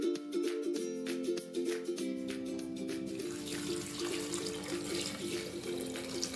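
Water runs steadily into a cooking pot, a continuous splashing pour in a home kitchen with a low hum underneath and no talking.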